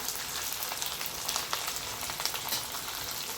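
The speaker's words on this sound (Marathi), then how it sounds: "बघा असं छान असं तळतळ वाजू द्यायचा कढीपत्ता" Curry leaves frying in hot oil for a thin poha chivda snack, a close, dense, continuous sizzle with sharp crackling pops throughout and no talking.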